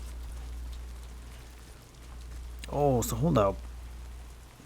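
Steady rain falls in the video game Death Stranding 2: On the Beach, a constant hiss of rainfall running through the whole stretch while someone speaks briefly over it near the end.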